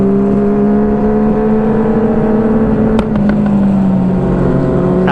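A Kawasaki Z900 superbike on a night ride, its engine holding a loud, steady droning hum with a brief change in pitch midway, close and continuous with no voices.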